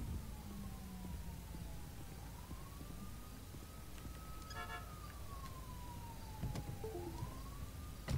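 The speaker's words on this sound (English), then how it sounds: "Typical ambulance rolling code 3." An ambulance siren in GTA 5 wails in slow rising and falling sweeps, fairly faint and steady over low engine and traffic rumble, with a few short clicks and bleeps near the end.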